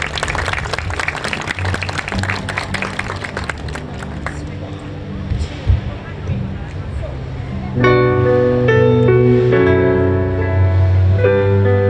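An audience at an outdoor Aloha festival at the Yokohama Red Brick Warehouse applauds in welcome of a performer, a steady crowd clapping that gives way to a sustained musical tone and chatter later on.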